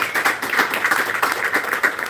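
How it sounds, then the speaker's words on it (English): Audience applause at a campaign launch for a Ward 14 councillor candidate: a dense, steady patter of many hands clapping, continuous and fairly close throughout. "Let's get another round of applause"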